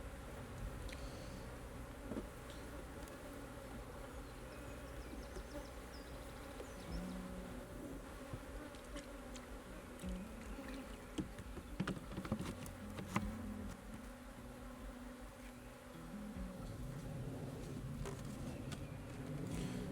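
Honeybees swarm around an open hive during a spring hive check, a steady dense buzzing drone that fills the whole stretch, close by, with occasional soft knocks and rustles from handling the frames.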